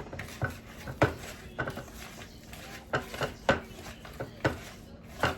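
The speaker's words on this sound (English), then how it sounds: "mix this together here" Chocolate chip pecan cookie dough being stirred in a bowl, the utensil scraping and knocking against the sides in a steady series of sharp, moderately close clinks with soft rubbing between them.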